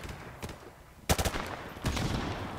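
Gunfire from a Modern Warfare Remastered team deathmatch match: a quick burst of sharp automatic shots, then a second stretch of firing, moderately loud over faint game background.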